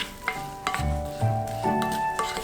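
Soy-braised black soybeans stirred in a pan with sesame oil and sesame seeds after the heat is off, a few soft scraping and clinking strokes over a faint lingering sizzle, close and fairly quiet.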